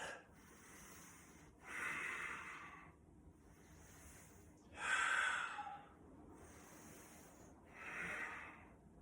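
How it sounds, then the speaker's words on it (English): Deep yoga breathing during a pose: slow, audible inhales and exhales close to the microphone, about five soft breath swells spaced a couple of seconds apart over a quiet background. "Let's take 3 breaths."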